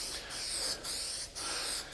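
Several short bursts of cleaner spray hiss onto a canvas convertible top in a steady rhythm, with brief pauses between them, close and fairly quiet.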